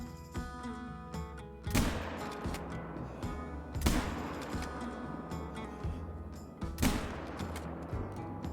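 Three loud gunshots at roughly two-second intervals fire at a pheasant in a hunting video game set on Rancho Del Arroyo, each a sharp crack with a short decaying tail over steady background ambience.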